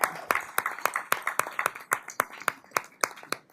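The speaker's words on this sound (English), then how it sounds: "Y'all can clap." A city council meeting audience claps for the Lady Wildcats, an undefeated girls' team honored for district championships; sharp, fairly sparse hand claps ring out in a steady, uneven rhythm, close and clear with no talking.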